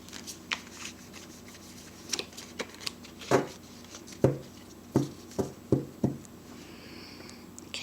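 Tarot cards being shuffled by hand in a series of soft, irregular taps and slaps, close and fairly quiet, with no talking.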